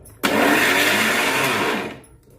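A mixer grinder runs on sesame seeds and jaggery for about two seconds, starting abruptly with a loud, steady grinding whir and then cutting off and spinning down.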